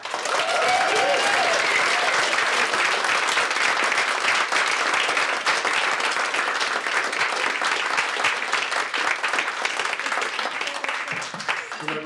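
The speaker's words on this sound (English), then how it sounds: "could we just give the newest Mr. and Mrs. Rice a massive round of applause?" Wedding guests give the newlyweds a long, loud burst of applause at a reception, with dense clapping sustained throughout and tapering slightly at the end.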